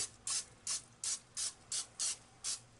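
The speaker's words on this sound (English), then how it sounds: "I'm going to spray the inside with some cooking oil. Cooking spray." Eight short bursts of cooking spray hiss into a bowl in a steady rhythm, close and fairly quiet, with brief pauses between each spritz.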